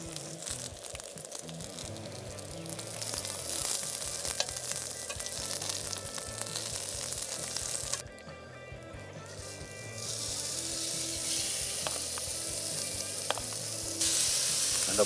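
Steak sizzles and crackles steadily on a hot barbecue grill, close up, with occasional scraping or shifting sounds and no talking.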